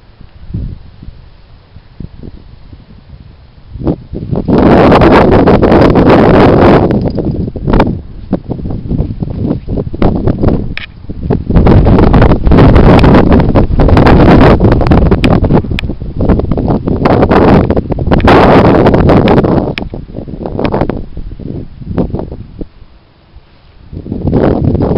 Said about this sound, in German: gleichzeitig ist ein bisschen windig hier